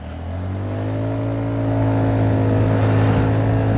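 Close car engine revving steadily and climbing in pitch while overtaking on a busy road, a continuous loud drone that swells toward the end with no talk.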